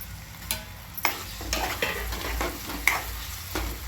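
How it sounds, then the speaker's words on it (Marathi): Tomato sautés with ginger coriander paste in oil for Marathi batata bhaji, a continuous close sizzle punctuated by regular clinks and scrapes of a spoon against the pan every half second or so. "आता चांगलं परतून घेऊया. तेल सुटस्तोवर टमाटर शिजवून घेऊया यात."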